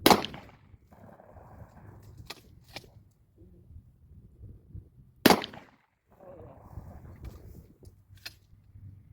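A shotgun loaded with bird shot fires two sharp, loud blasts several seconds apart outdoors, each ringing briefly, separated by quiet rustling and faint background sounds.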